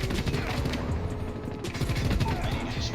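A rapid-fire gun in the Call of Duty Mobile video game shoots a dense, continuous burst of overlapping shots with mechanical rattle, loud and close throughout.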